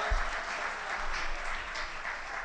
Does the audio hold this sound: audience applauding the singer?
yes